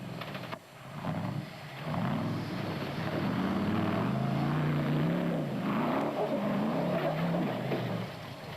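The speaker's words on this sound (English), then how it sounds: "Silwold and Fourie moved up one place after overtaking the Ford Ranger" Off-road rally vehicles at the Sun City 400 rally, 2006, roar past nearby in a loud, sustained engine drone that swells and holds steady, with a brief dip near the start.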